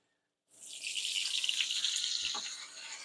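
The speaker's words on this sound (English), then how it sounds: "I'm gonna add water again." After a moment of silence, water suddenly rushes and hisses into a hot pan holding a steak, a loud continuous sizzling spray that holds steady.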